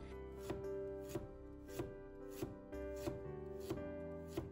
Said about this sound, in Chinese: 准备一块去皮的生姜，也给它切薄片。